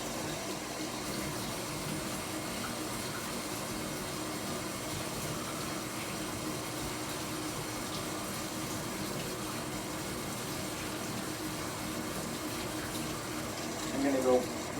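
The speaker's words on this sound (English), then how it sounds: "I am washing my hands" Tap water runs steadily as hands are washed with soap, a continuous splashing rush with a brief louder clatter near the end.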